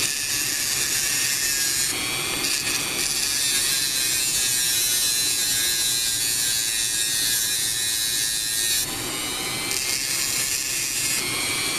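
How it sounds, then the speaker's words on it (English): Drum sander running on slow while filing solder off a brass drone battery clip, a loud continuous high-pitched buzzing grind that holds steady and shifts slightly in pitch as pressure changes. "what I'm going to do is file clean it right now. Drum sander on slow."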